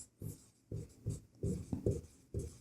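Chalk or marker scratching across a board during a Class 10 maths lesson, in several separate bursts of strokes, each lasting a fraction of a second with short pauses between, fairly close and clear with no talking.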